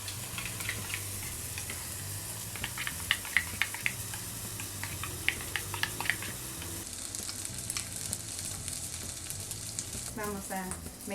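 Soft, continuous sizzling and scraping as maple syrup is stirred into a rough mash, with small clicks of a utensil against the bowl, quiet throughout.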